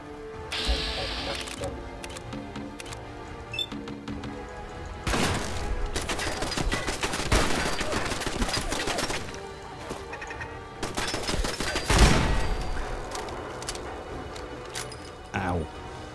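A gun turret fires in Fallout 4, with bursts of shots, crashes and impacts scattered through the stretch, a louder blast near the middle, and a player talking throughout.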